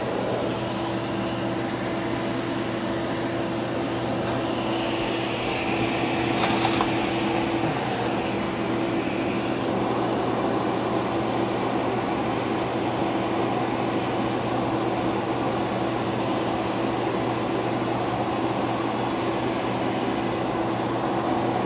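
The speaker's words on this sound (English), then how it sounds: "turn the vacuum cleaner on" A vacuum cleaner drones steadily with its hose held at the back channel of a masonry heater to draw out fly ash, a constant motor hum and airy rush with a brief rattle midway.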